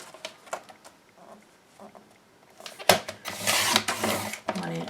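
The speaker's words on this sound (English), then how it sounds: "So I'm going to cut my strip." Scissors cut through a strip of coloured card or paper, a burst of close, crisp snipping and rustling after a few quiet taps and light handling.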